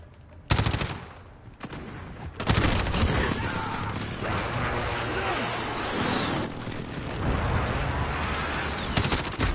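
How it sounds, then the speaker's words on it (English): Call of Duty played in VR: an enemy precision airstrike hits as a dense barrage of explosions and gunfire, with loud bursts and rolling blasts over several seconds under a voiced game announcement. "Enemy precision airstrike. Take cover."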